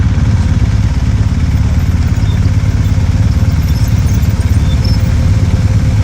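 A motorcycle engine runs steadily at low, rumbling revs on a steep hill throughout, close by with a slight clattery idle and no talking.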